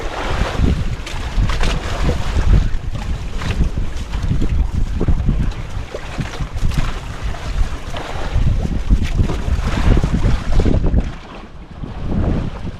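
Large sea waves surge and crash around a boat on open water, with heavy wind rumbling steadily across the microphone; the broadband roar stays loud and continuous, easing briefly near the end.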